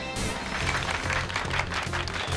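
A crowd applauds for Pikachu in a Pokémon Violet game scene, a dense, steady wash of clapping that holds at an even level for the full stretch.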